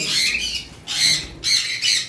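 Sun conure chicks squawking in three harsh, high-pitched bursts, each roughly half a second long and separated by short pauses, close and loud with no talk.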